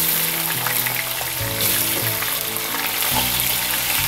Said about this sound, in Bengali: এই তেলের মধ্যেই ভেজে নিতে হবে।